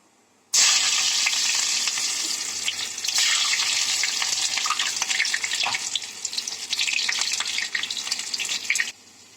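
Small shallots dropped into hot oil with popping mustard seeds for a bottle gourd and chana dal kootu, a sudden loud sizzle that holds as a steady frying hiss for about eight seconds before cutting off.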